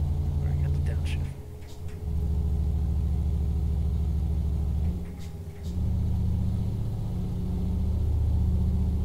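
Mercedes-Benz LS1525 truck engine in Euro Truck Simulator 2, a steady low rumble that dips briefly twice as gears shift down, then settles back into a loud, even drone with faint whispery voices over it.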